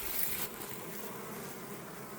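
Honey bees flying around their hives in autumn while bringing in yellow pollen, a dense continuous buzzing hum from many insects close by, steady throughout with no voices.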